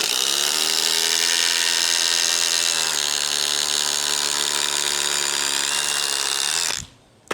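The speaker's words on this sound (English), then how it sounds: "This seems like a super strong impact driver, especially for Dewalt." A new Dewalt impact driver drives a fastener into wood with a loud, continuous, close buzzing hammer. Its pitch drops partway through, holds steady, then the tool cuts off abruptly near the end.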